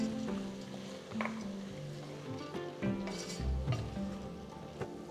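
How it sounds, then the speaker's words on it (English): A spoon works soaked horsegram through an onion and tomato mixture in a pan, with a few soft scrapes and light sizzling. The stirring sounds close and steady, with no talking. "Stir everything together so that the flavors coat the horsegram evenly."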